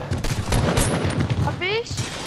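Rapid bursts of gunfire in the video game Fortnite, several quick shots in a cluster under a talking voice, followed by a brief electronic sweep.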